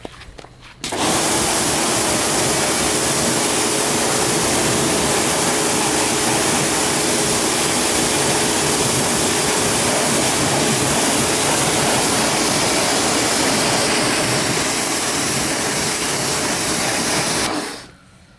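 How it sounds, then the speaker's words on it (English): Pressure washer spraying cleaning product off a very dirty car, a loud steady hiss of high-pressure water running nearly unbroken for about seventeen seconds with no talk. "So yeah, I'll gurney it off now and get them coated."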